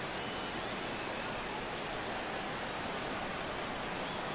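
Steady, dense rain hisses over a baseball game in St. Louis, an even wash of noise with no breaks from start to finish.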